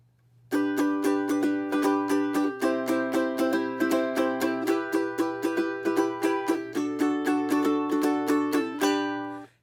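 Rapid ukulele strumming in a steady, driving rhythm, chords changing every couple of seconds and ending on a final held strum, bright and close.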